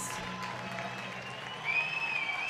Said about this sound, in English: Jeffrey Baez, a standing ovation from the crowd as he comes in